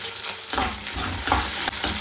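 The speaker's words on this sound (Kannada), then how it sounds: "ಇಷ್ಟನ್ನು ಕೂಡ ನೀಟಾಗಿ ಫ್ರೈ ಮಾಡ್ಕೊಳ್ಳಿ" Onion, garlic, ginger and green chillies frying in a pan for a drumstick-leaf chutney, with a steady sizzle broken by scraping stirs of a spoon, close and moderately loud.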